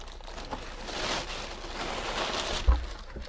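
Shipping packaging is pulled off a wood-based turntable with a soft crinkling, rustling sound, ending in a brief thump near the end, close and fairly quiet.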